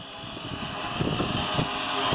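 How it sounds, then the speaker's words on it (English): Venom Pro GPS streaming drone flying outdoors in a park, a steady continuous whirring buzz of its propellers, moderately loud and close, holding level throughout with no talking. "let me get this drone to cooperate first"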